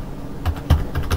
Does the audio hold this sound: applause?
no